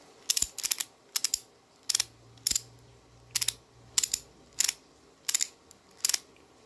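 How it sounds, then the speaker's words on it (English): A ratchet strap is cranked tight in a series of sharp, close ratcheting clicks, about ten quick bursts in an even rhythm with brief pauses between, plus a faint low hum underneath. "You'll close the ratchet and then you'll start to tighten it."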